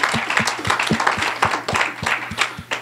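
An audience claps together at a live talk, steady dense applause filling the space for a few seconds with no voices over it.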